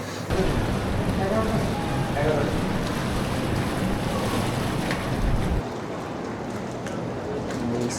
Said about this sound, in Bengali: স্পিডবোর্ড এখান থেকে এটার রাইড শেষ হয়েছে